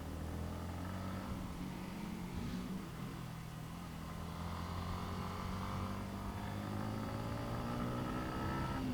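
A Bajaj Pulsar NS200 naked motorcycle ridden through bends, its engine droning steadily and rising and falling in pitch, heard continuously with wind noise and no speech.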